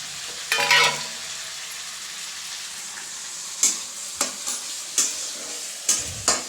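Onion, green chili and tomato fry in hot oil for an egg bhujia, making a bright continuous sizzle punctuated by a handful of crisp spatula scrapes against the pan.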